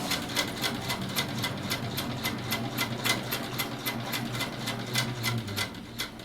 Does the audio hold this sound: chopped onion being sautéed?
no